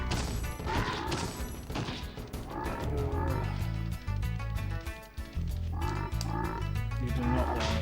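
Frog enemies attack in a video game with quick smacking hits and croaks, mixed into dense, loud game music that plays without a break.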